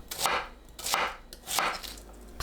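A knife slices through a halved onion on a cutting board in three or four deliberate cuts, each a crisp crunch ending in a soft knock on the board, close up and alone.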